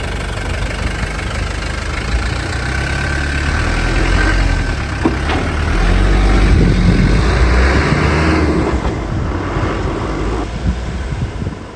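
The turbo diesel engine of a 1992 Land Rover Defender 90 idles loud and close with a steady, slightly knocking low rumble that swells a little in the middle and then settles.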